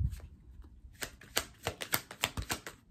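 Tarot cards shuffled and drawn by hand, a quick run of crisp, close flicks and snaps that start sparse and then come in a steady rhythm, with no talk.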